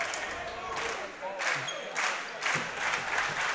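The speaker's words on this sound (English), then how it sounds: "As the slow clap begins." During the closing seconds of a boys' high school basketball county championship, an arena crowd claps in slow, evenly spaced unison beats roughly every half second over a general crowd murmur, with a commentator talking over it.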